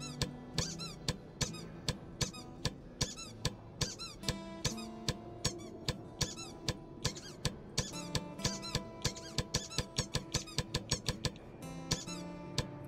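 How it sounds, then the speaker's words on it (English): A squeaky rubber duck toy squeaks over and over in a steady rhythm, each squeak sharp and close, running throughout with musical tones in the background. "You have to listen to the squeaky duck now"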